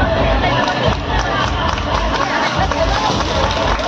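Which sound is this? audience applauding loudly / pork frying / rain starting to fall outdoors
audience applauding loudly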